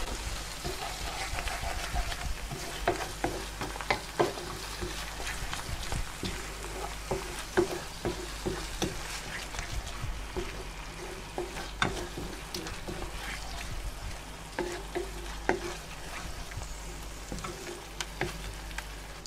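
Tamarind is stirred into a sweet-and-sour dansak or pathia curry in a hot pan: a continuous loud sizzle with repeated sharp scrapes and taps of the spoon against the pan, and no talking.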